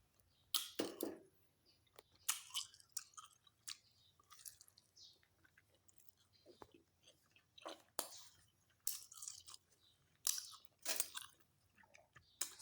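Close, quiet chewing and biting while eating sticky rice with fermented fish and omelette, with soft crunchy bursts recurring irregularly between near-silent pauses.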